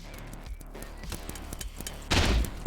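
Paintball markers firing in rapid bursts during a tournament match, with irregular popping shots at mid distance and a louder thumping blast near the end from a paintball grenade.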